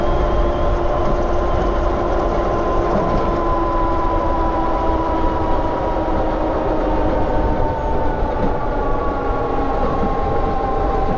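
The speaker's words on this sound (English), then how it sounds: "It's kind of throttling. We're in second gear." A 72V BBSHD mid-drive motor on an electric bike whines steadily under throttle in second gear, a continuous close tonal hum over rushing wind and road noise, with no talk.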